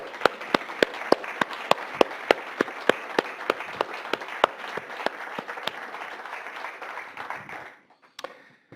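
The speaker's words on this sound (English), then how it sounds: "Please join me in giving him a round of applause." An audience claps in applause after a speech, with steady, dense clapping and sharp individual claps that fade out near the end.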